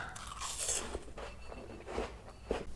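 Shine Muscat grapes are bitten and chewed close to the mic: a few crisp, wet crunches and soft chewing over a brief moment, with no speech.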